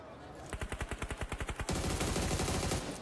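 Gunfire in the video game PUBG Mobile: a rapid automatic burst of about a dozen evenly spaced shots, then a dense, continuous roar of fire, loud and close.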